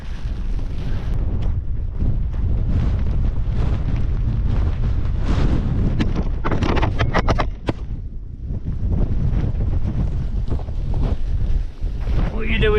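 Strong snowstorm wind roars on Helvellyn during a wild camp, with heavy, continuous gusts buffeting the microphone loudly and surging and easing throughout.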